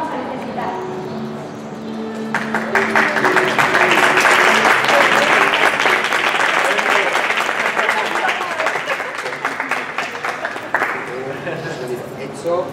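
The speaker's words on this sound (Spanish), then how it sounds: "Gracias por los aplausos." A crowd applauds loudly for several seconds, a dense wash of clapping that swells and then tapers off, with some talking at the start.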